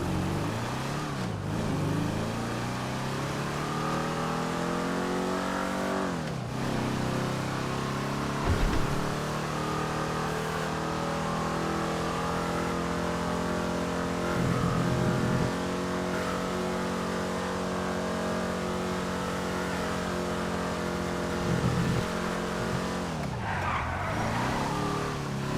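The Stafford, a car in a video game, drives with a sustained engine roar that rises and falls through shifts, with occasional tire skids and squeals, loud and close throughout.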